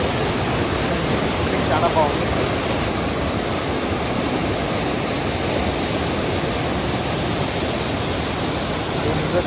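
A waterfall at South Lake Tahoe, California, pours out a steady, broadband roar that fills the whole clip at a constant level, with a brief bit of speech near the start.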